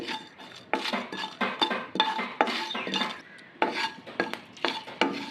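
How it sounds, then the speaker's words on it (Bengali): Whole spices (dried red chillies, whole garam masala, cumin and pepper) frying in a pan, with repeated rhythmic scraping and clinking of a spatula against the metal pan in short bursts. "এবার আমি মশলাটাকে ভালো করে ভেজে নেব।"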